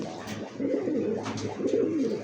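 Satin pigeons cooing in a loft, with low repeated throaty coos in two close bursts at moderate loudness and no speech.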